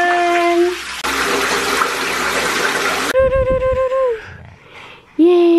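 Running water from a tap fills a bathtub, then gurgles and splashes as a child is bathed, with short bursts of flow and a brief voice between them.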